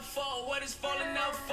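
A song with a short melodic piano loop repeating under a sung vocal line, full and steady at moderate loudness.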